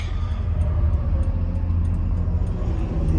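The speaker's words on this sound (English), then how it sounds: "I'll cut this air off so you can hear the motor better." A BMW G30 car engine runs at a steady low rumble, heard from inside the cabin while waiting in traffic, with a constant drone and no talking.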